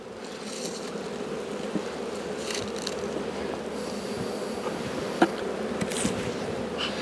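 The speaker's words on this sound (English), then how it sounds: "There's plenty of bees." Dense, steady buzzing of many bees fills the air continuously during hive frame handling, with a few louder individual passes close by.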